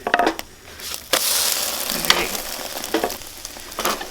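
Eggs cooking flat in a pan over medium-low heat: a loud, crackling sizzle, broken by spatula clatter and scraping as they are turned, with no talking.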